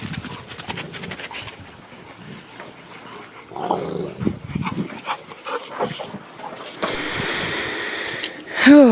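Dogs playing with an indestructible ball outdoors, with scattered growls, snorts and scuffling movement at close range, rising in loudness toward the end.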